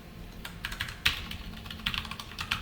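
Rapid, uneven keystrokes on a computer keyboard while HTML code is typed, clicking close and clear in short irregular bursts over a quiet room background.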